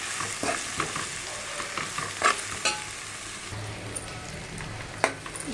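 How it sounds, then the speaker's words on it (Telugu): Gongura leaves and onions fry together in a pan for gongura chicken, a soft continuous sizzle with occasional scraping stirs and light clicks of a utensil, close up and fairly quiet, without speech. "గోంగూర ఫైనల్గా బాగా వేగింది."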